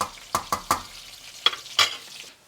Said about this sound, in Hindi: ये हमारा प्याज खूब ज़बरदस्त फ्राई हो गई